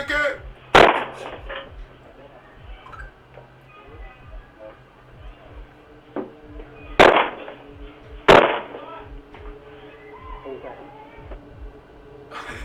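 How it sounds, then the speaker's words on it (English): A man's foot kicks a house door during an attempted burglary, picked up by a doorbell camera: three sharp, loud bangs, one early and two close together later, with murmured talk and background noise between them. "The man who owns the house is able to hear the loud bangs of the attempted burglar's foot hitting the door"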